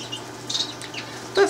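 Birds in an aviary give a few faint, scattered chirps and tweets over a low steady hum, with one slightly louder call near the end and no talking.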